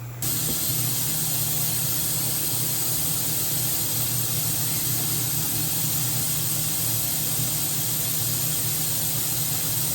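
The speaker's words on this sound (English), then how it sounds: "You don't want to set your timer when that steam's just starting to roll." Steam venting steadily from the top of a pressure canner full of home-canned beans, a loud continuous hiss with an even low hum beneath it, close and unbroken throughout.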